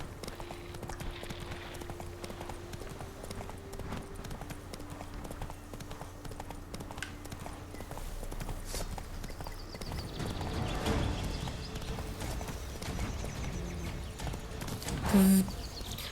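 Geralt's horse Roach trots in the Witcher 3 video game, with rhythmic hoof clip-clops under faint game ambience. A voice talks briefly near the end.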